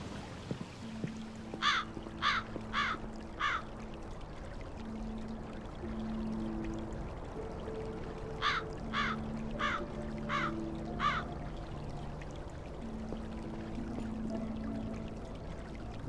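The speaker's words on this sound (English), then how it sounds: "I guess it's rainwater that's pumped up again and again." Water pours steadily from a pump in the Black Mirror 3 game, a continuous faint splashing stream, with crows cawing in short bursts of four or five calls twice in the background.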